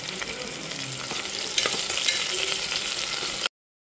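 Crushed garlic and lots of curry leaves frying in hot oil in a pan for dal bhat, a close, busy sizzle with crackles and brief stirring clinks that cuts off abruptly.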